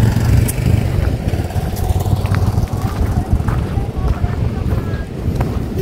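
Strong seaside wind buffeting the microphone near the Bangui windmills on the coast, a steady low roaring rumble throughout with faint voices mixed in.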